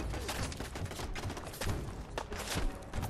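Automated turrets in Fallout 4 fire rapid, continuous bursts of gunshots, a dense crackling barrage with heavy thuds that stays busy and fairly loud throughout.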